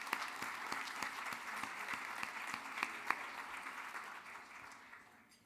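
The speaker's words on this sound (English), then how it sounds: "So let's give him a round of applause in absentia." A crowd applauds at a university award ceremony for distinguished service medals. The clapping is full and sustained, with a few louder individual claps, and it tapers off toward the end.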